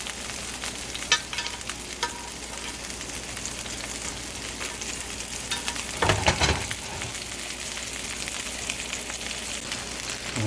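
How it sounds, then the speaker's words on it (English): Beef pinwheels searing in hot oil in a pan, a continuous soft sizzle and crackle with a louder burst of spattering partway through, no talking. "while we're getting a good sear on these guys"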